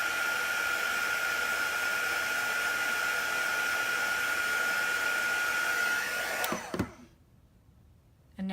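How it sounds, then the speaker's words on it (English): A heat tool blows steadily and loudly, drying chalk paste on a lifted craft transfer, then cuts off abruptly near the end, leaving near silence. "I'm going to apply some heat here to dry off my"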